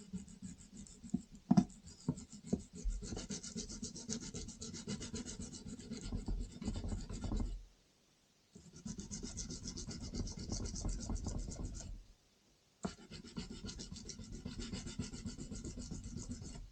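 A file rasps back and forth across a guitar's frets during fret leveling, long steady scraping strokes in close, sustained runs broken by two short pauses.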